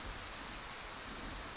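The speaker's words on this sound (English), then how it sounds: "You're outside. It's raining, and you have no idea where you are." Steady rain falling outdoors in the video game Scarlet Hollow, a soft continuous hiss with no distinct drops standing out, low in level and even throughout.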